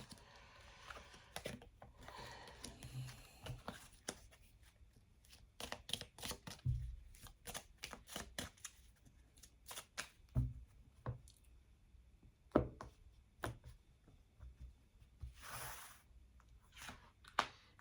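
Small oracle cards are shuffled and handled close up, giving soft riffling swishes, taps and clicks in irregular bursts with quiet pauses between them.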